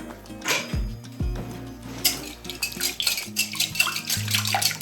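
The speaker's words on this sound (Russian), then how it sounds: "Все это я взбиваю" A sour cream mixture is whisked in a bowl, a busy stream of close clinks and scraping taps with irregular rhythm, metal striking the bowl repeatedly without talk.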